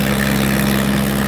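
A tractor engine runs at a steady idle during a village tractor pulling contest (tochan) in Boha, Mansa, giving a loud, constant low hum with no variation across the short stretch and no talking.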